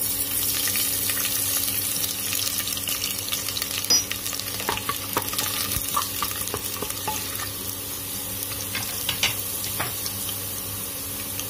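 Garlic fries in hot mustard oil with cumin, whole coriander and asafoetida while being stirred. A steady sizzle runs under scattered scraping clicks from the spoon, with no talk.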